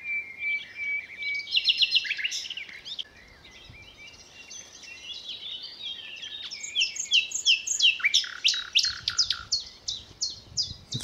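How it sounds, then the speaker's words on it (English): A small bird sings from a bush beside a flooded path, giving a series of clear, rapid, high-pitched chirps and trills at close range with no speech. "There's a small bird hopping around in the back of the tree there, a bush there."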